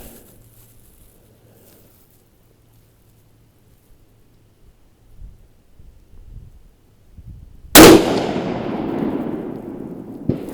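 A single 6.5 Creedmoor rifle fires a 123gr ELD-M handload after several seconds of near quiet, a sharp loud crack that rings out and decays slowly.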